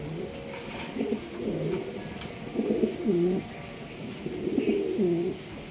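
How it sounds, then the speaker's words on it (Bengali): Large Roman gal pigeons coo up close in three distinct rounds of rolling, throaty calls, separated by brief quieter pauses. "আরো একজন রোমান গাল কবুতর, এটা মিলি কালার মাশাআল্লাহ, সাইজ দেখেন বিশাল সাইজের মধ্যে।"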